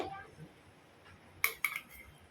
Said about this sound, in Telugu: ఒక గిన్నెలో అయితే వేస్తాను